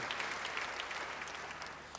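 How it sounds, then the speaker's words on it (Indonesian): Church congregation giving warm applause, a continuous close crowd of clapping hands at a steady level from start to finish, with no one speaking. "Beri tepuk tangan yang baik bagi dia."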